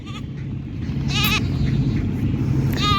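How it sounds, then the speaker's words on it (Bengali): Goats being unloaded from a trawler at a riverside ghat on the Jamuna bleat in two or three wavering cries over a low, steady engine rumble, close and clear. "সামনে দেখছেন আরও অনেক ছাগল নিয়ে আসছে তারা ট্রলার থেকে নামছে এইমাত্র"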